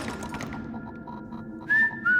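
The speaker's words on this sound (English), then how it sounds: "I heard what sounded like someone whistling." Someone whistles inside an empty building at night, two short clear tones, the second rising then held, heard after a low muffled rumble and faint thuds.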